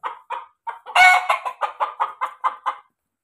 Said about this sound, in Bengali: তিনটাই মোরগ আছে এনে